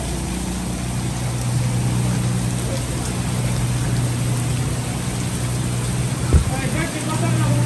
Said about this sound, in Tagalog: Grabe ang ulan, oh.